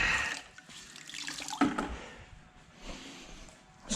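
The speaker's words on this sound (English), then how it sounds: "Here's my bottle of hot soapy water." Hot soapy water sloshing inside a bottle, irregular splashy gurgles rising and falling at close range, with a few knocks and handling noises, no talk.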